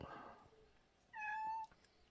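A cat meows once, a clear drawn-out indoor call in the middle, standing alone after some brief rustling handling noise.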